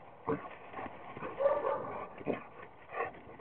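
A dog runs and plays close by, with scuffling, bursts of movement and faint whimpering noises at a moderate level.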